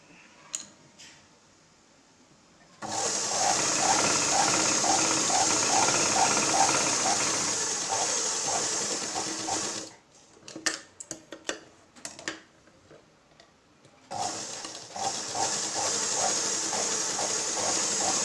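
Sewing machine stitching a blouse, running in a steady rapid ticking whir for about seven seconds, then brief stop-start bursts with handling clicks before running steadily again, close and clear, with no talking.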